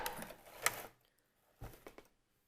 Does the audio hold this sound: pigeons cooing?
no